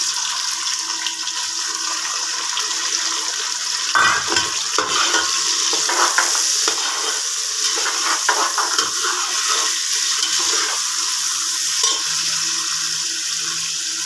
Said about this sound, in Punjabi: ਇਹ ਭੁੱਜ ਚੱਲਾ ਵਾ ਹੁਣ ਆਪਾਂ ਇਹਦੇ ਵਿੱਚ ਪਿਆਜ਼ ਵੀ ਪਾ ਲਵਾਂਗੇ